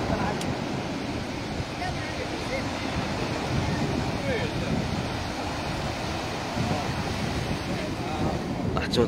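Calm sea waves off Casablanca, heard as a steady, continuous wash of surf with some wind noise, even and unbroken throughout with no distinct crashes.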